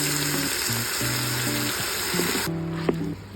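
Washed mushrooms cook in an Instant Pot for chicken cacciatore, giving a steady, moderately loud sizzling hiss with low humming tones underneath and a few light knocks near the end.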